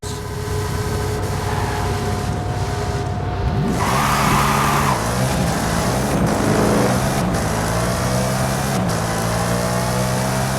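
Brocky car in a video game arena revving and accelerating hard, a loud continuous engine roar with rising and shifting tones and mechanical rumble, no talk.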